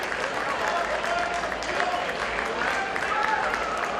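Steady, dense applause from a crowd at a Mission Bouts fight event after a very close bout, sustained throughout at even volume.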